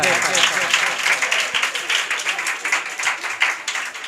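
Audience clapping at a Teacher's Appreciation Day celebration at a school, SS English Academy: dense, steady applause from a room full of people, fairly close, with voices mixed in throughout.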